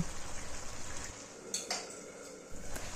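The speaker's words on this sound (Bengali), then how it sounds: "এবার এটাকে ভালো করে নাড়াচাড়া করে আবার কিছুক্ষণের জন্য ঢাকা দিয়ে দেব।" Cooked bottle gourd is stirred in a pot and then covered. A spoon scrapes and clinks softly against the metal, and a few sharper clanks near the end sound like the lid being set on.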